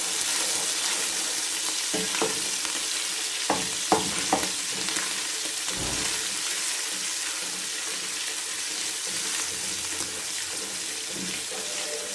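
Ginger pieces fry lightly in a pan for koyla karahi, a steady sizzle running throughout with a few scraping stirs and clinks near the start, with no talk.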